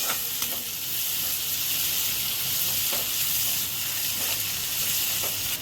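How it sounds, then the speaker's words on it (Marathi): Tomatoes sautéing in a pan with turmeric and kitchen king masala for a potato curry, a constant close sizzle and hiss with a few light stirring scrapes, no talking. "आपण टमाटे इथं परतून घेणार आहे."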